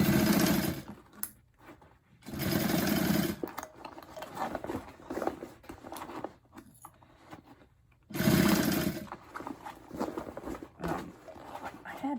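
A domestic sewing machine stitches vinyl bag lining in several loud bursts of rapid whirring, broken by short quiet pauses between runs.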